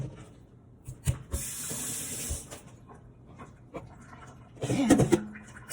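Cold tap water runs into a sink as oxtail is washed, with a steady hissing stream, then a pause, then another burst of splashing and clinking.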